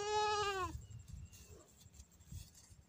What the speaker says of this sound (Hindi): बकरी भी चर रहे हैं यहाँ पर